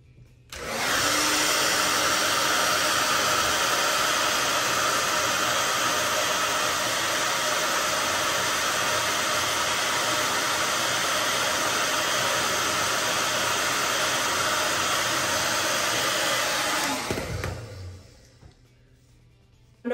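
A handheld hair dryer blows hair dry with a loud, steady, close whooshing drone that runs continuously for most of the span before switching off.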